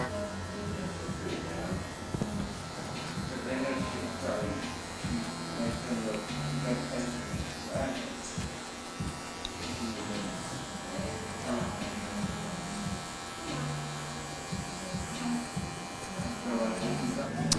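Electric hair clippers buzz steadily through a barbershop fade, run clipper-over-comb along the parietal ridge, with a continuous close hum under background chatter and shop noise.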